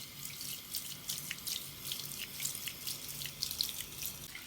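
Tap water running into a sink while fidget toys are washed, a steady close splashing stream with small irregular spatters and drips, without speech.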